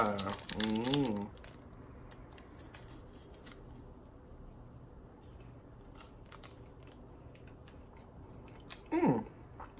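Someone bites and chews an Icelandic snack bar, faint crisp crunching and crackling at close range, with brief voice sounds at the start and near the end.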